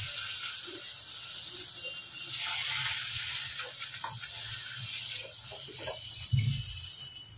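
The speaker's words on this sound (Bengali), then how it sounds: "এবার একটু জল দিয়ে দেবো।" Water is poured into a pan of okra that has been fried down with spices, making soft splashing and trickling sounds, with a few clinks and knocks and a louder thump near the end.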